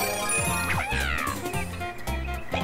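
Cartoonish meowing from the cat power-up in Super Mario 3D World, with several short, high meows over bouncy, rhythmic game music.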